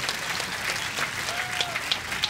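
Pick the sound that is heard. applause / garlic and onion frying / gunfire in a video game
applause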